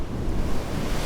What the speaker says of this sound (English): One of those freak waves that come over.